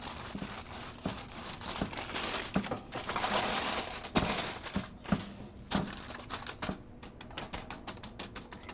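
Aluminum foil being folded and crumpled inside a pellet smoker during cleaning, giving a continuous close crinkling with sharp irregular crackles and pops, loud and alone with no speech.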